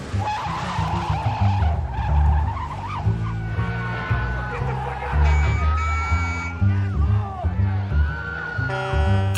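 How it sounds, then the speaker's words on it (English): Tires squeal and skid through the frantic freeway car chase in To Live and Die in LA, with roaring engines and dramatic music in a dense, continuous mix. "To Live and Die in LA's white-knuckled insane car chase through LA"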